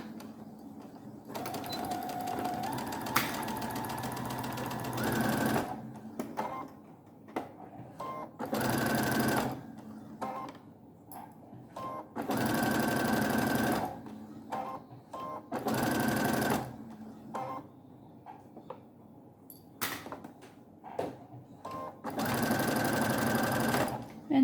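A sewing machine stitches silky cravat fabric in several loud, close bursts of whirring with short pauses between runs and a few clicks and handling sounds.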